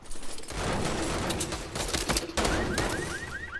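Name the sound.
gunshots in a shooter video game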